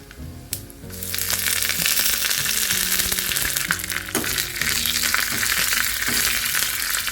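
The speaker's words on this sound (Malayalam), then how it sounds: "കടുക് പൊട്ടിക്കാം അതിനകത്തേക്ക് ഉലുവ ഉണക്കമുളക് കറിവേപ്പില ഇട്ട് കൊടുക്കാം" Mustard seeds splutter in hot coconut oil with fenugreek, dried chillies and curry leaves for kalan, a sudden loud sizzle that starts after a brief quiet moment and keeps crackling under steady background music.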